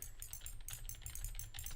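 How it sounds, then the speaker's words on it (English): Synthetic keystroke clicks from the Opera GX web browser's typing sound effect, a quick steady run of crisp taps over a low hum, with no voice. "I use Opera GX for some reason as my browser, and it has this typing noise."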